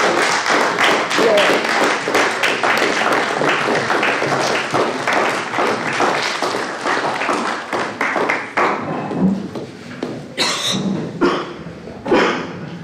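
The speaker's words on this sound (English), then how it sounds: "I hope you all will stand and give a round of applause for 36 years for serving the city of Pocatello." Applause at a city commission meeting honoring a retiring employee's 36 years of service to Pocatello, with dense sustained clapping from a room full of people that thins out toward the end into scattered claps.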